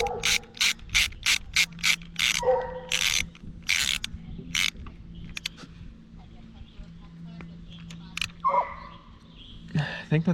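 A ratchet clicks in quick bursts while tightening a bolt on the water pump of a first-generation Kawasaki Z1000, the pawl ticking close up in short repeated strokes with pauses and some faint mechanical rubbing between them.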